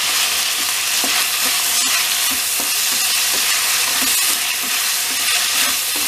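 Chopped onions and tomatoes with cashews and salt cook in a pan over a medium flame, a loud, constant frying hiss with faint regular stirring taps underneath, no talking.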